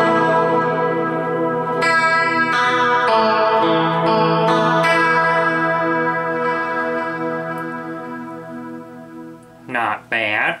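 Electric guitar through a tri chorus setting with no compression, shimmering sustained chords and notes with wide, wavering modulation and echo tails, loud and close, ending in a few wobbling bent notes.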